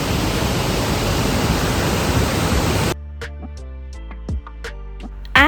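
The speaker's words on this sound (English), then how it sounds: "Waterfall ಇದೆ." A waterfall at a monsoon-season resort in Coorg roars as a loud, steady wash of broadband noise for about three seconds, then cuts to quieter tonal sounds.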